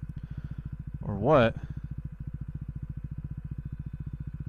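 A KTM Duke 390 motorcycle engine idles steadily with fitted new tires and updated TFT firmware, a close, even single-cylinder thumping pulse; a voice briefly speaks over it.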